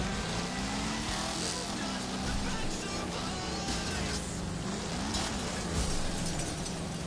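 A banged-up, damaged car in Wreckfest labours with a rough, dense engine roar and grinding rattle that stay loud and close almost without a break, while a voice talks over it.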